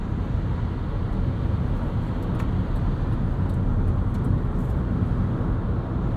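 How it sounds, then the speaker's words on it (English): Inside a 2022 Chevrolet Bolt EV cruising on the highway, a loud, steady broadband rumble of tire roar and wind rush fills the cabin without letup, with no voices. "Road noise, wind noise,"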